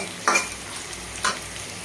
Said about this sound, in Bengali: উচ্ছেটাকে এইভাবে নুন ছাড়া ভাজতে হবে